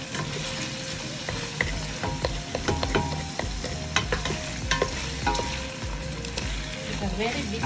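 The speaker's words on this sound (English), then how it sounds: "We're going to let it cook for some few minutes. As you stir, that nothing burns." Kenyan Swahili pilau frying and being stirred in a pot, a close crackling sizzle with repeated scraping knocks of the spoon, no talking.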